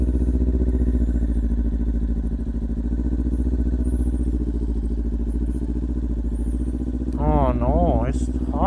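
A Kawasaki Ninja 400 motorcycle struggling on snow gives a steady, loud, close engine drone throughout, with the revs rising and wavering near the end as it skids.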